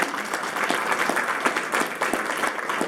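An audience at the Sustaina-Palooza 2017 sustainability event claps steadily to welcome a speaker, giving a dense, even patter of many hands that carries through the whole stretch with no talk over it.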